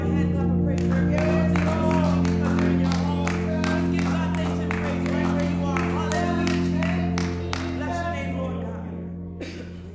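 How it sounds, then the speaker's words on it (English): Church congregation at a Sunday service clapping hands in praise, a steady rhythmic run of claps over sustained organ or keyboard chords and voices, fading somewhat toward the end. "Let's give the Lord a hand clap of praise"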